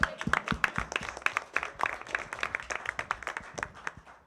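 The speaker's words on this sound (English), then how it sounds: "Can we just give her one more round of applause?" A small group claps steadily for a few seconds, rapid uneven claps forming light applause with no other sounds over it.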